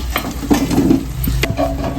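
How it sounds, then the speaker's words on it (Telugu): Potatoes tumble into a pan of oil with chilli powder and turmeric, sizzling loudly as they are stirred, with a few clinks of the spoon against the pan. "కారం పసుపు అన్నీ వేసుకున్నాక ఇక ఇలాగ కలిపాక బంగాళదుంపలు వేసేస్తున్నాను"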